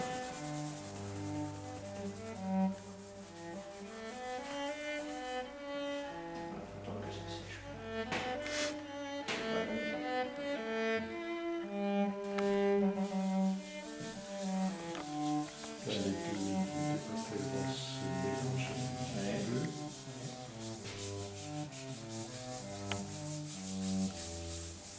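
Soft, continuous rubbing of pastel being blended across paper by hand at an art salon, quiet and steady beneath background music.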